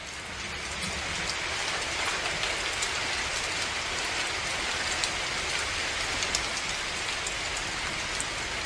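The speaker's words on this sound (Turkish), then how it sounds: "Bir de cama düşen yağmur sesi olsa keşke arada demişler." A rain-on-window sound effect plays on a radio show: a continuous hiss of raindrops pattering on glass, fairly quiet and steady, with a faint train rumble underneath and no talking.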